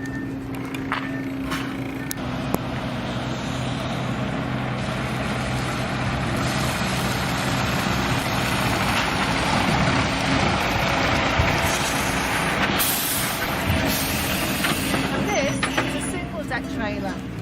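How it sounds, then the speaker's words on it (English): Heavy trucks, including rigid trucks and wagon-and-drag trailer combinations, rumble past in a steady broad roar of engines and tyres that swells and fades over the whole stretch. "as you've seen from the short clip that was showing some of the vehicles driven past"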